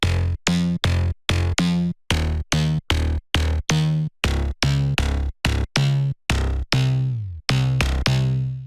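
A punchy future house synth bass plays a choppy rhythmic pattern of short, sharply cut notes, loud and up front with no voices.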